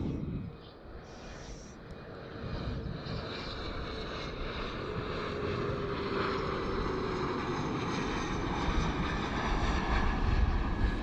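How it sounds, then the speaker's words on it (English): An SAS CRJ 900 jet airliner passes at Copenhagen Airport, a broad roaring rumble that builds steadily in loudness over several seconds amid outdoor wind noise. "there's another SAS CRJ 900"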